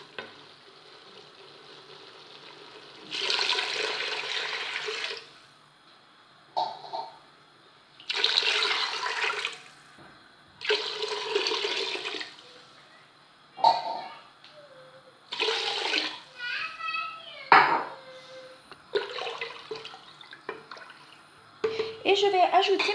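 Water pours into a cooking pot, 1.5 to 2 litres, in several separate gushing bursts with short gaps between them. A few faint scrapes and clinks fall in the quiet spells, and a voice speaks now and then.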